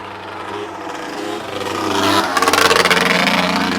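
A motorcycle engine revs up and builds in loudness, with a rough, pulsing throttle burst toward the end as the rider tries for a wheelie.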